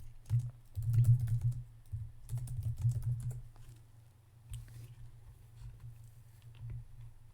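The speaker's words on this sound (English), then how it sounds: "And I'm sitting here typing." Close, quiet keystrokes on a computer keyboard patter in uneven bursts, busier early and thinning into scattered taps later, with no voices.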